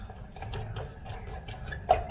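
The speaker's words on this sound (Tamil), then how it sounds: "சேர்த்துட்டு இப்போ இது எல்லாத்தையும் நல்லா மிக்ஸ் பண்ணிடலாம்." Spoon stirring a sticky honey and salt mixture in a bowl for roasted almonds, soft scraping and clinking strokes repeating in an uneven rhythm, close up, with a couple of sharper taps near the end.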